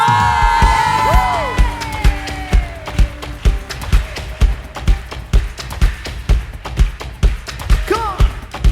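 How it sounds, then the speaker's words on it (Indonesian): Church congregation at an online Sunday service clapping in a steady rhythmic beat, loud and close, while a voice shouts over it and music plays. "berikan tepuk tanganmu sorak-sorai bagi Tuhan yang dahsyat"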